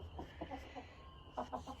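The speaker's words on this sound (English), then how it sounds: "Now, here's my chickens I have." Chickens in a dim coop, among them a blue lace Wyandotte, make soft, short clucks in quick little bursts. The sounds are close but quiet, with a brief pause before another cluster of clucking.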